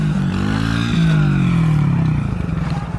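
A small dirt bike ridden by a kid runs loud and close, its engine droning steadily with pitch shifts as it revs and eases off, rising slightly and then settling back near the end.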